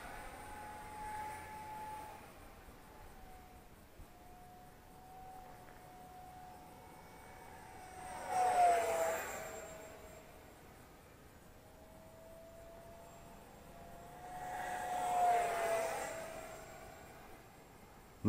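A 50mm EDF RC jet with a heavier airframe whines overhead in two passes, its faint, distant ducted-fan hiss rising as it approaches and fading as it moves away.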